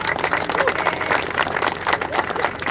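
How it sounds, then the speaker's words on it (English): A school assembly audience claps for a speaker, a brisk, busy burst of applause with crowd murmur mixed in at moderate loudness. "So please give Enrique Sanchez another big round of applause."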